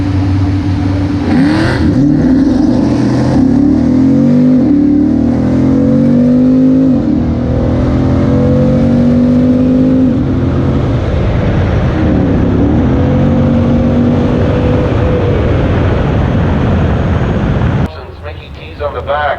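A Camaro launches off the line at a drag strip and accelerates hard in the right lane, its loud rising engine roar filling the track for about eighteen seconds before cutting off abruptly, with commentary from the announcer over it.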